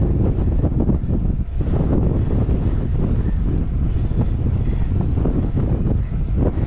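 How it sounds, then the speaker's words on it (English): Strong crosswind buffets the microphone of a cyclist riding a Trek Domane SL5 on the Red Rock Loop near Las Vegas, producing loud, continuous roaring gusts with no speech. "As you can tell, it's a little windy."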